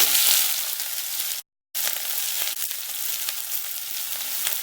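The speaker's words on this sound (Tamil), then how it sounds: "வடகம் பொரிஞ்சதும் உளுத்தம்பருப்பு போட்டு வெங்காயத்தை போட போகிறோம்." Onions and curry leaves frying in hot oil as a tempering for kulambu, giving a steady loud sizzle that cuts out briefly near the start, then continues evenly.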